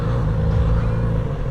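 A Kawasaki Z900RS motorcycle engine hums while riding, a loud, steady low rumble with wind noise, smooth and unbroken throughout.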